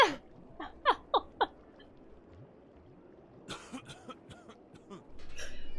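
Coughs and throat-clearing from a character in The Sinking City: a quick cluster of three or four sharp, close coughs, then a quiet pause, followed by a rougher burst of sputtering hacks.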